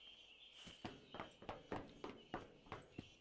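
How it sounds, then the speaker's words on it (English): Player footsteps in the survival video game Miscreated thud in an even walking rhythm, about a dozen close, crisp steps in quick succession, fairly quiet. "It's my own footsteps"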